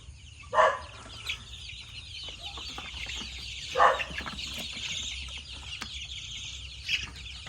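Chickens cluck in short bursts a few seconds apart, over a faint steady outdoor background with no talking.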